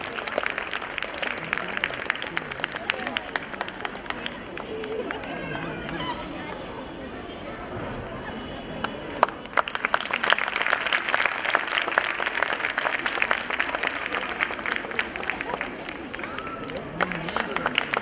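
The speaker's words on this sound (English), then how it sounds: "Please give a huge round of applause." Audience applause at a school annual day celebration, steady clapping from a large crowd filling the hall for most of the stretch, with some crowd noise and voices mixed in.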